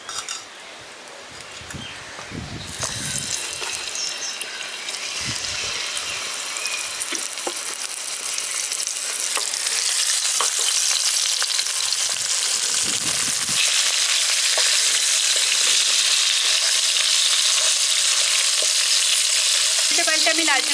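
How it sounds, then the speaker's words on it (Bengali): Hilsa fish pieces fry in hot mustard oil in a heated pan, a continuous loud sizzle that swells and thickens as the fish settles in, with occasional scraping clicks of a utensil and no talk. "দিয়ে মাছগুলো ভাজতে দিয়ে দিচ্ছি। আমি সর্ষের তেল দিচ্ছি এখানে।"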